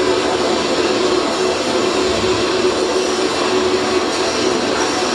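Steady, loud broadband rumble and hiss of a subway train running on its line, a continuous roar holding evenly for about five seconds with no talk.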